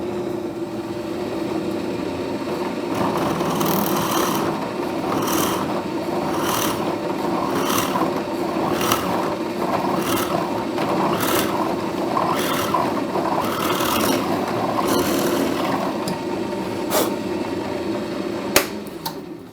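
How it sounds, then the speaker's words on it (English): An electric drill whirs steadily, boring a hole through wood for a long stretch, with repeated short bursts of grinding and chatter as the bit bites in. "all I got to do now is drill a hole"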